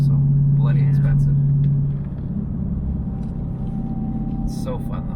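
Dodge Challenger Hellcat Redeye supercharged V8 rumbling steadily close by, a strong low drone that eases slightly after a couple of seconds, with faint voices in the background.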